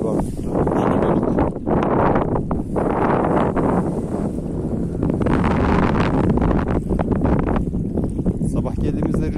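Strong wind buffets the microphone outdoors while carp fishing, a loud, continuous rushing roar that swells and eases throughout.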